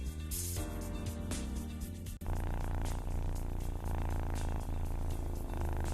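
A human voice imitates a cat purring in a continuous rumbling drone. It sits under loud background music, with a short break about a third of the way in.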